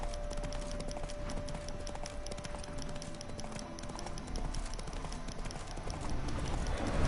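Hooves of Roach, the horse in the video game The Witcher 3, clip-clop in a steady running rhythm beneath a dense, constant wash of game ambience and music, with no speech.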